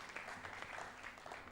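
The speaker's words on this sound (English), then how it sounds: "Please, let's give him a round of applause" Faint, steady clapping from an audience at a national health dialogue event, a short continuous patter heard from a distance.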